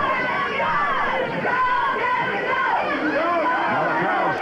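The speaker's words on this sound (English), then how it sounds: "Now the crowd's starting" A 1970s wrestling crowd at a Northern California match roars continuously, a dense wall of yelling and cheering with a commentator's voice carrying over it throughout.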